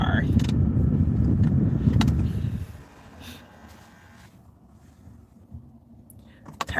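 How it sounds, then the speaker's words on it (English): A car engine idles with a steady low rumble that cuts off abruptly about a third of the way in, leaving a quiet cabin with a few faint clicks and a small knock near the end. "Okay, turn off the car."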